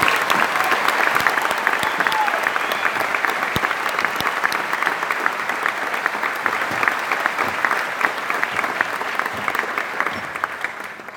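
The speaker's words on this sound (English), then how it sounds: "please join us in giving a round of applause for these fine soldiers" An audience applauds graduating soldiers at an Army infantry graduation ceremony, with steady, dense clapping from a large crowd that continues without a break for the whole stretch.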